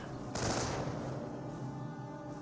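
An MG42 machine gun in the WWII strategy game Company of Heroes lets off a loud, rapid burst that opens with a sharp crack and then trails into a dense rattling decay over a low battlefield rumble.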